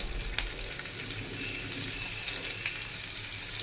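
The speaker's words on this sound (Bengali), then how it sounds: "তো আমি ফোড়নে দিয়ে দেবো একটু কালো জিরে আর কয়েকটা চেরা কাঁচা লঙ্কা।" Nigella seeds and slit green chillies sizzle in hot oil in a home kitchen, a continuous crackling fry with a few sharper pops, fairly soft and steady throughout.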